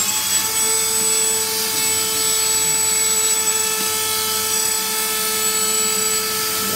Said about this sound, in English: if you rub them along here while it's going, then you can grind them down